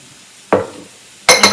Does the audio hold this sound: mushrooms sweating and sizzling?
yes